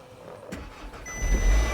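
A salvage car bought at auction cranks with a key turn and catches. A short starter whir comes first, then the engine fires and settles into a loud, steady idle rumble, close by, with no talk over it.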